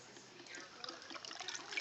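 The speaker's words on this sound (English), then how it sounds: "I'm going to pour myself" Sweet potato juice poured from a Breville juicer jug over ice into a glass, a soft steady trickle and splash that builds slightly louder toward the end, heard up close with no talking.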